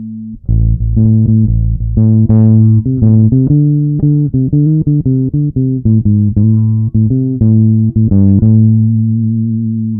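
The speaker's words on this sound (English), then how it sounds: "Now I'm going to try turning down the bass tone as well." Electric guitar played with both the bass and treble tone controls turned down, a steady run of sustained notes and chords at a loud, even level with no talking.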